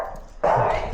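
A dog barks once near the mic, a sudden loud burst about halfway through that rings on over quiet room noise.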